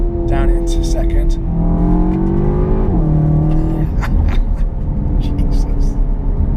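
A car with a steering-wheel-mounted shifter drops into second gear and accelerates hard, the engine note climbing, dipping at the shift and surging again, loud and close, with a voice briefly over it.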